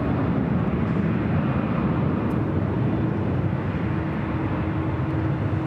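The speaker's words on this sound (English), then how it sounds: "Getting a lot of United heavies taking off here on the north side today." Broad, steady jet roar from United heavy jets taking off on the north side at LAX, filling the whole stretch at constant loudness with no voices over it.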